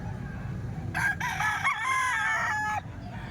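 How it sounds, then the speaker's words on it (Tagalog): A rooster for sale at a market in the Philippines lets out a single loud, drawn-out crow close by, over a low murmur of background chatter. "Ayan, magandang manok na yan mga bossing."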